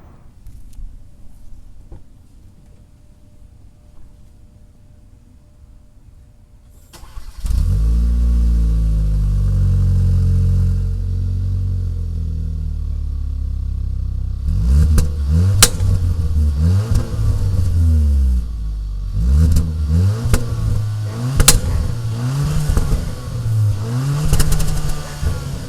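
A 2019 Hyundai Veloster Turbo heard from behind at its large exhaust pipes: a quiet lull, then the engine fires up to a loud idle, followed by a series of sharp revs rising and falling through the exhaust.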